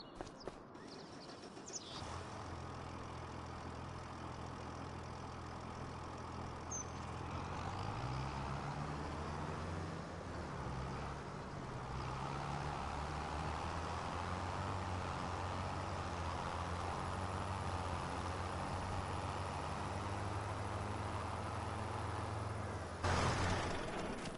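A tractor engine idles and then revs in a farming game, a steady low mechanical drone that holds for over twenty seconds with a brief pitch change partway through and ends abruptly.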